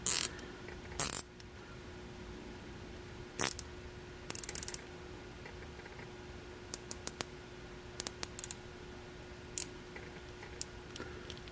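A plastic zip tie ratcheted tight on fuel tubing while installing a fuel filter: sharp clicks, an early cluster of loud ratchets and then a series of single and paired clicks at irregular intervals, alone over faint background.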